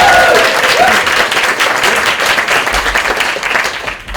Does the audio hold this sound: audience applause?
yes